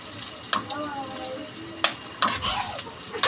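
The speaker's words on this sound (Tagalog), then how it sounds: "Igigisa na po natin yan." Onions and garlic sautéing in a hot pan for spicy pork intestine adobo, a soft sizzle with sharp clattering stirs and scrapes at intervals, a voice talking under the cooking.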